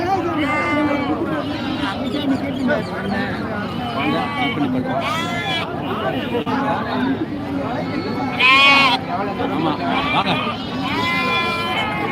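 Goats and young kids bleat at a Friday goat market in Ettayapuram, with several loud bleats rising over constant crowd chatter and nearby talking.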